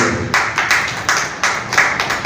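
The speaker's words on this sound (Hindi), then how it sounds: "उनके लिए जोरदार तालियां बजाए हुए" Audience at an Urdu poetry gathering clapping in loud, close, uneven bursts, several rhythmic waves of hand claps rising and falling in quick succession.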